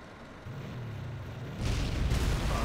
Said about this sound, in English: Hopefully my Abrams doesn't die from these explosions.